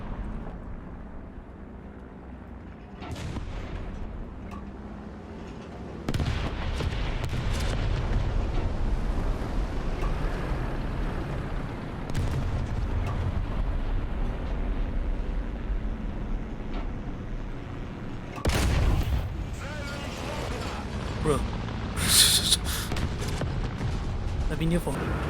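War Thunder tank battle with an SU-85M: a low engine rumble under repeated booming shots and sharp bursts of gunfire, with a louder cluster of blasts near the end and a voice talking over parts of it.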